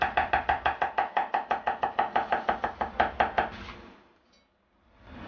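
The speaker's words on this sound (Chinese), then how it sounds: "用刀撇破，再剁成蒜末和备用" A knife chops garlic cloves into mince, about thirty sharp, evenly spaced strokes in a fast steady rhythm, close and clear, then stopping into near silence.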